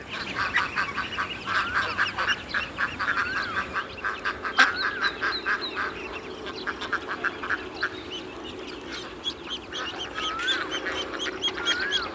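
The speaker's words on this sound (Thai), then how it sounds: "ไปถ่ายเป็ดเดี๋ยวเป็ดกลับบ้าน" Ducks quack repeatedly in a busy outdoor flock, a steady run of overlapping calls lasting throughout, fairly close and moderately loud, with bird chatter around them and no talking.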